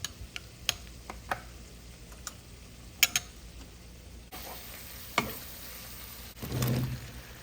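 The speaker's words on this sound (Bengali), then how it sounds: "তো এই যে বেগুনটাকে ভালো করে কষিয়ে নিচ্ছি" Local round eggplant sizzles softly as it is stir-fried in a pan, with scattered sharp ticks and clinks of a utensil and a brief louder scrape near the end.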